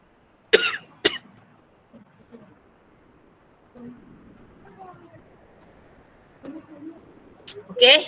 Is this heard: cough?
yes